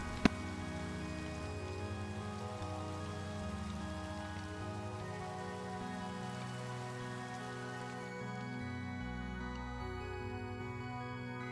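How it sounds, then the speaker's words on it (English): Rain falls steadily in the Minecraft video game, a soft, even patter at low level under a sustained musical backdrop that thins out near the end, with no talking. "It's raining."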